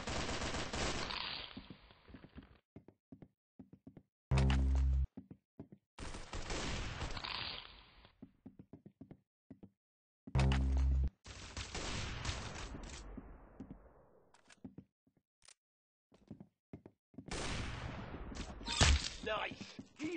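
Gunfire in the Roblox game Arsenal: several rapid bursts and single loud shots, close and sharp, separated by short quiet gaps.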